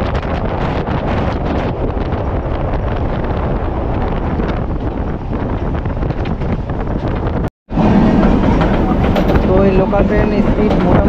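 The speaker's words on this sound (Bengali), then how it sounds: "লোকাল ট্রেন স্পিড মোটামুটি দেখুন রয়েছে 92 কিলোমিটার স্পিডে চলছে।" A local train running toward Digha at speed, a loud continuous rumble of wheels and rushing wind noise filling the whole clip, with a brief dropout near the end before the roar resumes.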